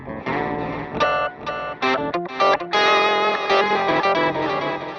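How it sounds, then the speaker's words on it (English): Electric guitar run through the pitch shifter of a Flatsons KMF-1 multi-effects pedal: short choppy chords and stabs with a doubled, shifted tone, loud and close, with no talking. "I've got a pitch shifter."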